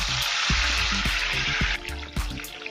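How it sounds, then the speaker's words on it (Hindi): Mustard seeds, hing, fennel and curry leaves sizzle loudly in a few spoonfuls of hot oil in a kadhai, a dense crackling hiss punctuated by sharp pops and spits. "उसमें हम राई डालेंगे, हींग डालेंगे, फेनल सीड डालेंगे और कड़ी लीव्स डालेंगे"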